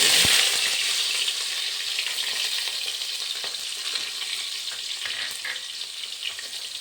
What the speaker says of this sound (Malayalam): ഇത് പൊട്ടിക്കഴിഞ്ഞാൽ ഇതിൽ ഇഞ്ചി, വെളുത്തുള്ളി, പച്ചമുളക്, കറിവേപ്പില ചതച്ചത് ഇതുകൂടി